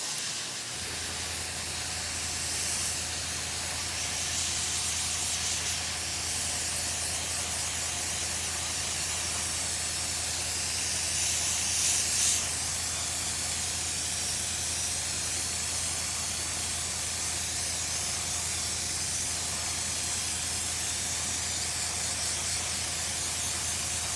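A continuous loud hiss of spray onto a beard lasting throughout, steady and close, with a low hum underneath.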